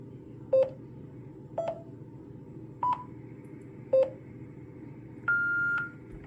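Five short keypad beeps from the microphone keypad of a Yaesu FT-8800 ham radio while a VHF repeater frequency is entered, evenly spaced; the last tone is held longer, and a low hum sits underneath.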